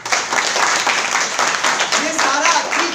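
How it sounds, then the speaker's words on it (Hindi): Audience applause fills a hall at a business meeting, a steady burst of clapping that carries on for about three seconds, loud and close. "सिस्टम के लिए जोरदार ताली।"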